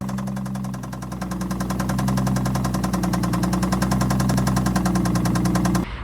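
A 2007 manual G35 engine runs close and loud, its steady, dense rumble swelling slightly as the revs rise before it cuts off abruptly at the end.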